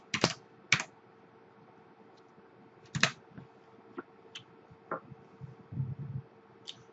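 Password keys tapped on a computer keyboard while setting up an R2 server: sparse, separate clicks and small clusters of keystrokes spread over several seconds, quiet against a low steady hum.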